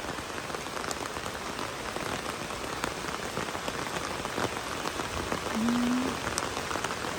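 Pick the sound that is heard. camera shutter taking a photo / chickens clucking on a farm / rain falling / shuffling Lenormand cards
rain falling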